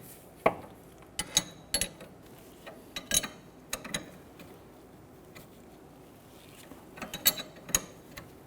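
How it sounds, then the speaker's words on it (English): A hand tool tightens and torques the inner tie rod on a 2006-2014 Honda Ridgeline, giving scattered sharp metallic clicks and ratcheting ticks in small clusters, close by and over a low background hum. "I'm going to go ahead and torque this down to 32 foot-pounds"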